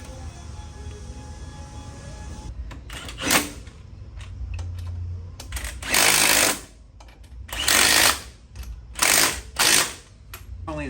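A shock bolt on the lower control arm of a Honda Rancher ATV is tightened with a power tool: several loud buzzing rattling bursts, close by, separated by short pauses and faint clicks.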